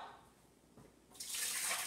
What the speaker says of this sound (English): I'm going to pour the water out